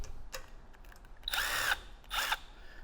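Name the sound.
Milwaukee 1/4-inch power tool driving a bolt with magnetic socket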